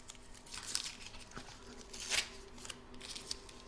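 Scissors snip away excess fabric around a rabbit appliqué on an in-the-hoop bunny mug rug, a few soft, close crisp cuts with rustling of cloth between them and no talking.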